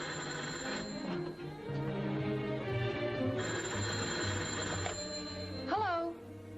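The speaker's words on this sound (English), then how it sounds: "Is that your phone?" An old telephone bell rings insistently indoors with repeated bursts and brief pauses, fairly loud, while people speak over and around it.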